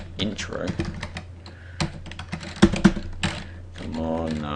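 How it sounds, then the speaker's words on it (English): Fingers type on a computer keyboard with a burst of uneven clicks and clacks, some sharper key strikes standing out, while someone talks over the typing. "I'm pathetic at typing on this keyboard"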